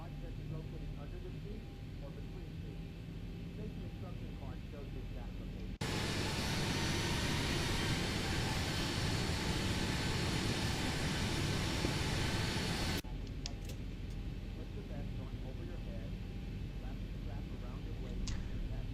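A Boeing 737-800NG taxis in a flight simulator, its engines giving a steady whine and hum. Partway through, a louder broadband roar swells in, holds for several seconds, then drops back to the quieter engine drone.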